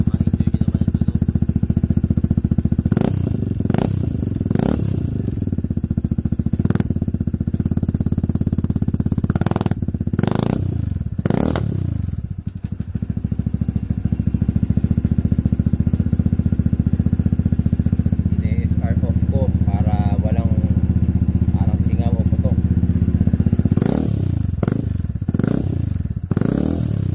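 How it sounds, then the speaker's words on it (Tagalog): A GTS 300 scooter engine with a Remus Performance Sport exhaust idles steadily, punctuated by several throttle blips that rise and fall, loud and close, with brief voices now and then. "That's our Remus Performance Sport Exhaust para sa ating GTS 300."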